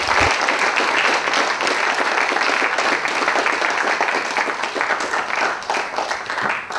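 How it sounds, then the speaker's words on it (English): An audience at a food seminar breaks into sustained applause, a dense, steady wash of many hands clapping close by for several seconds, tapering slightly toward the end. "so that we can applaud you."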